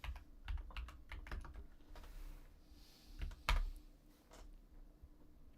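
Keys on a computer keyboard are typed in quick, uneven bursts of soft clicks. The tapping is faint and close, with brief pauses between flurries and no talk over it.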